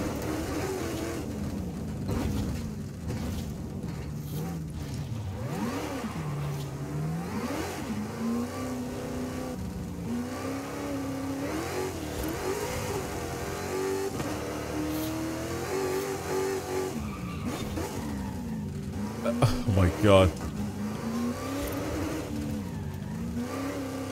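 A car engine revving under varying throttle in the video game Forza Horizon 5, rising and falling steadily and continuously, with a brief louder burst near the end.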